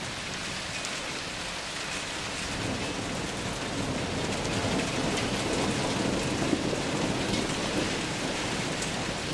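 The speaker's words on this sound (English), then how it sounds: "A lot of rain." Dense, steady downpour during a thunderstorm outside a garage, a continuous hiss of heavy rain with low thunder rumbling underneath throughout, no voices.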